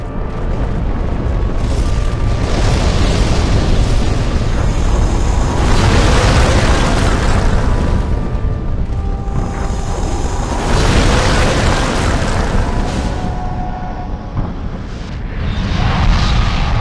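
Loud, continuous rumbling explosions from a bombing run in the video game Demon's Souls surge and swell in broad waves, with heavy booms layered over a roaring bed throughout and no talk.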